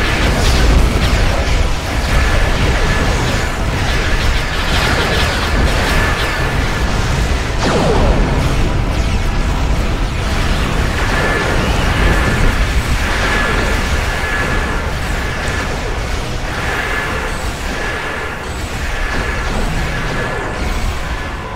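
Star Trek Online's Nicor Bio-Warship unloading its weapons, a continuous loud barrage of blasts and booming bursts that stays dense and heavy throughout, with no pause.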